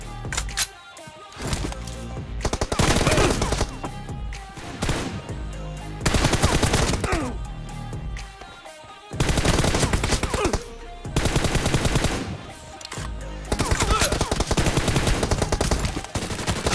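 Rapid automatic gunfire from the battle royale game PUBG Mobile during a 1v1 match, loud bursts of shots repeating in several long volleys separated by brief pauses.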